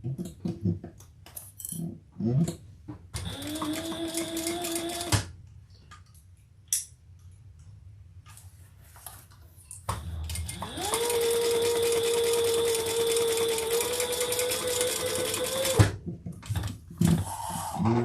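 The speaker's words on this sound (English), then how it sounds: "And then sew them at the seam allowance in the pattern" A sewing machine stitches the seams of a handbag in two steady whirring runs, the second longer and louder, separated by quiet handling and small clicks of fabric and tools.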